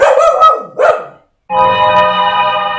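A dog gives two sharp, close barks, then after a brief silence a longer whining, drawn-out bark-like cry; the sounds are loud and cartoonish.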